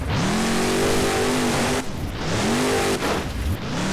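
A monster truck engine in BeamNG revs hard and continuously at a freestyle event, loud and close, the pitch rising and dropping in repeated surges with brief dips between.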